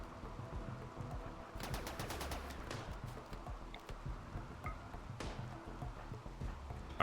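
Rapid bursts of automated turret gunfire from the RimWorld video game, a fast rattling volley in the middle followed by scattered single shots over a steady ambient background.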